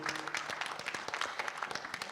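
An audience at a critical-history conference on education and equality claps for four speakers, a faint, scattered applause with distinct individual claps rather than a dense roar.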